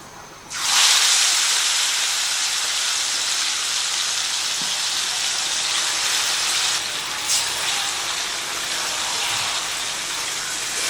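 Marinated mutton for a Bihari-style curry is tipped into hot oil with fried whole spices and breaks into a loud, continuous sizzle that surges at once and keeps hissing for about ten seconds, with no voices heard.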